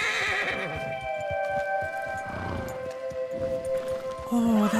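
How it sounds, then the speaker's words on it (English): A horse whinnies loudly in a long, wavering call while hooves clop softly underneath, followed by a snort, in the video game Red Dead Redemption 2. "Oh, that's a beautiful horse."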